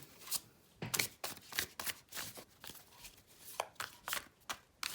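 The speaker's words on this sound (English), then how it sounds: "I'm trying to mix it up, shuffling with my left hand as well to keep everything balanced" Tarot cards being shuffled by hand, a quick series of close, crisp riffling and slapping bursts in an irregular rhythm, soft and intimate with quiet gaps between, no talking.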